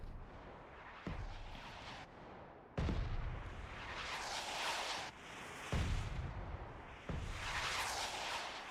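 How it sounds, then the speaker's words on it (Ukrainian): Artillery fire in a large-scale multiplayer war game, a series of heavy booming blasts, about five distinct impacts each followed by a long rumbling roar, loud and continuous with no talking. "Арта постійно працює, але поки не туди."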